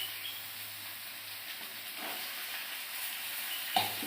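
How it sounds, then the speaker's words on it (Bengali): Meat sizzling and frying in a pan as a steady, even hiss, with a small clink near the end, close and fairly quiet with no talking. "এই যে মাংসটা দিয়ে দিলাম, অল্প একটু মাংস"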